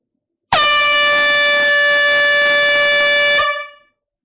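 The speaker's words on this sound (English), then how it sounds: "here comes the air horn" A single loud air horn blast, a sustained bright tone lasting about three seconds, then cut off with a short fading tail.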